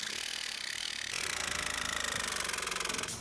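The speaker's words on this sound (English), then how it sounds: "This jigsaw is really hard to use left-handed." Jigsaw blade sawing through square steel tubing inside a bus, a loud, close, continuous rasping buzz that rises to a steady harsh pitch midway and cuts off near the end.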